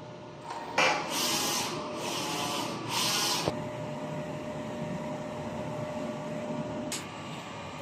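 A DTF printer runs a nozzle test after a head clean, a steady mechanical whir and hiss with a few short bursts of louder carriage or spray noise near the start and one later, with no talking.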